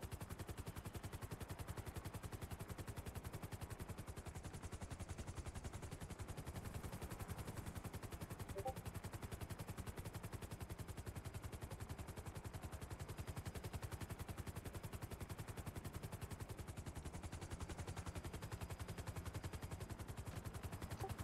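Rapid, continuous automatic gunfire in a gang roleplay video game, a steady rattling stream of shots that runs unbroken and evenly loud, with no voices over it.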